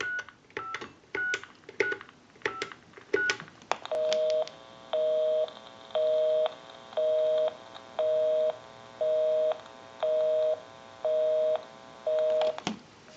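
A Pottery Barn Grand Wall Telephone, repaired and converted, sends a quick string of dialing tones, then a busy signal pulses in about nine regular on-off beeps, clear and close with no talk.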